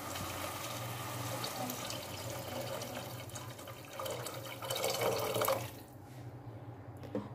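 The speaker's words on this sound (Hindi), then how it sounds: "अब हम इसमें पानी ऐड करेंगे चावल जितना" Water pours steadily into a cooking pot of peas for matar pulao rice, a continuous splashing rush that swells louder near the end and then cuts off.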